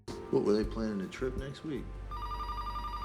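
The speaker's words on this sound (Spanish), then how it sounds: "el teléfono suena" A telephone in an engineer's office rings with a steady electronic trill that starts after someone speaks over a low background rumble.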